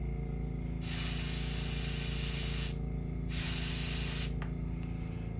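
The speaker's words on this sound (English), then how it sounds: "just take some black ink. Put my airbrush" An airbrush sprays black paint onto a fishing lure, a Whopper Plopper, in two close, loud bursts of hissing air, each about two seconds long with a short pause between, over a steady compressor hum.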